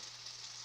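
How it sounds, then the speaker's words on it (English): Batter fries in a hot pan with a steady, fine, hissing sizzle, heard up close and without any talking. "You can hear it sizzle from here."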